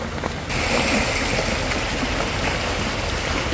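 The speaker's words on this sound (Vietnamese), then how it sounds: "Trời mưa không có lớn lắm nha." Light rain falling steadily outdoors on an island while rainwater is being collected: a continuous soft patter and hiss, close and even, with no voices.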